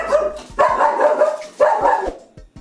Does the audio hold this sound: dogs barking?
yes